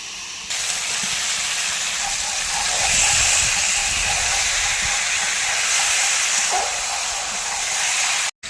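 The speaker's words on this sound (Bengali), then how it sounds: "এবার কষানো মশলার মধ্যে মাংস দিয়ে দেবো" Chicken pieces go into hot fried spice masala in a pan, setting off a strong, continuous hissing sizzle close by that holds steady for several seconds before cutting off sharply.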